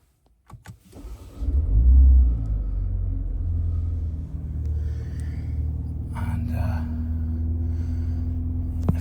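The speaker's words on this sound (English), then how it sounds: "Now to start the vehicle" Engine of a 2023 Mini Countryman Cooper S Exclusive 2.0 automatic starting close by: a brief crank and loud low surge that settles into a steady idle rumble, with small clicks from inside the cabin.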